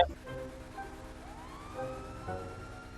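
Police car siren in the video game GTA V, a wailing tone sweeping up and down at moderate distance, faint amid other game sounds with no talk over it.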